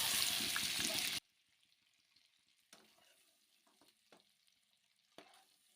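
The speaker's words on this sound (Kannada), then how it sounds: "ಈಗ ಮೊಟ್ಟೆ ಫ್ರೈ ಆಗಿದೆ, ತೆಗಿತಾ ಇದ್ದೀನಿ." Eggs fry in a pan with a loud, steady sizzle that cuts off abruptly as they are lifted out, followed by quiet scattered clinks and scrapes of utensils against the pan.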